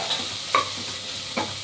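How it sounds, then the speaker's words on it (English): Vegetables with onion, ginger, garlic, green and red chilies, beans and carrots sautéing over a low flame, a soft sizzle broken by two or three brief stirring scrapes close up. "Lightly saute the vegetables for about a minute or 2 on low flame."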